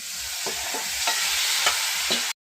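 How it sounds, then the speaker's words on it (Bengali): Marinated meat going into a hot pot on the stove, sizzling steadily with a few stirring scrapes spaced through it, close and fairly loud, with no voices. "আমার মাংসটা তো আগে থেকেই মাখানো ছিল, এটা আমি চাপিয়ে দিচ্ছি।"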